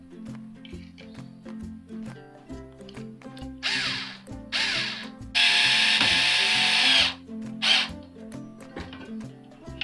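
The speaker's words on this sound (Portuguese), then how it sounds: "pego a sua parafusadeira e você vai atravessar um parafuso nela" A cordless screwdriver drill drives a screw through a plastic toothbrush held in a vise, whirring in short bursts and then one sustained run before stopping, close up, with light handling noises between and no voices.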